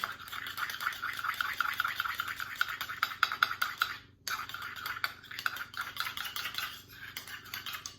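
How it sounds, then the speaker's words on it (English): Scone ingredients being stirred in a bowl with a utensil, giving a steady run of close scraping and clinking strokes, a short pause near the middle, then more mixing. "You just mix it really good."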